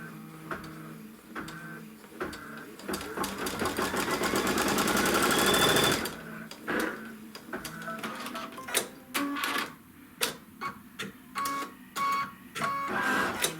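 An embroidery machine stitches a quilt seam, its motor building into a rapid whirring run that cuts off abruptly, then gives way to irregular clicks, knocks and short mechanical bursts.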